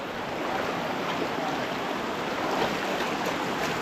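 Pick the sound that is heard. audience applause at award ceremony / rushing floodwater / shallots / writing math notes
rushing floodwater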